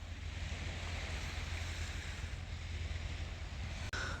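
Steady waves and surf roll along the Black Sea coast under gusting wind buffeting the microphone, a continuous broad wash with no voices.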